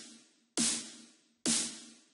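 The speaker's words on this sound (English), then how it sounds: "So the snare is from Vengeance Essential Club Sounds 2." Two punchy electronic snare hits from the Vengeance Essential Club Sounds 2 sample pack, processed with effects, each bright crack trailing into a long reverb tail that fills the gap before the next hit.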